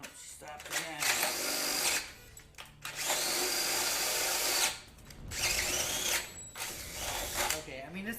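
Compact power drill whirring in several bursts of a couple of seconds each, with short pauses between and a high mechanical whine, as voices talk over parts of it.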